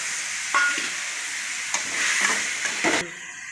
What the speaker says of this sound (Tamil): பூண்டு, தேங்காய், மிளகாய் எல்லாமே ஒன்றா போட்டு வணக்கிடலாங்க